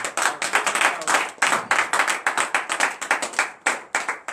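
A congregation claps in praise during a morning prayer service in Benin, a steady run of close, loud hand claps with irregular group rhythm, no voices audible over it.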